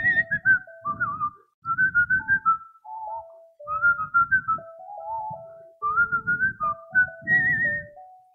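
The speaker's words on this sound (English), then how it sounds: "I'm whistling this with all my heart." A person whistles a hymn tune while walking among other people, a clear melodic line of short phrases with brief pauses and soft footstep-like noise underneath.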